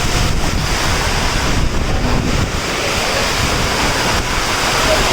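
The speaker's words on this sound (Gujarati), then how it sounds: "વરસાદ બહુ પડે છે ભાઈ પવન બહુ છે" Heavy rain and strong wind lash a roadside spot near a bridge over the river at Omkareshwar, a loud, steady roar of rushing rain and wind buffeting throughout with no pauses.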